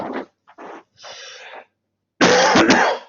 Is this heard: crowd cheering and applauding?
no